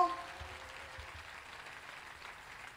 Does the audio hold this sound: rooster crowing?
no